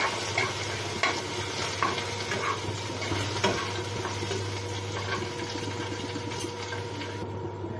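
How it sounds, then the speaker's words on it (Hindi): Crushed garlic and ginger fry in a pan while a spoon stirs them, a loud steady sizzle with repeated scraping knocks against the pan in a village kitchen. "गार्लिक को ज़्यादा नहीं पकाना है।"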